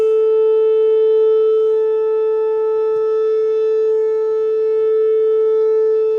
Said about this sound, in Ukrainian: Продовжуємо тести під сирени.